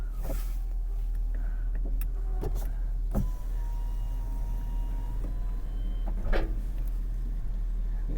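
A Volkswagen Golf Plus from Germany rolls down off a tow truck bed with its engine idling low, and a few sharp clunks and thumps sound over the steady hum.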